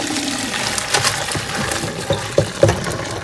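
Water pours and splashes as boiled beef liver is strained, a continuous gurgling rush followed by a few sharp clinks and knocks near the end.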